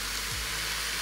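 Pork ribs browning in their own fat in an electric pressure cooker, a steady dense hiss of sizzling with no break, up close and with no talking.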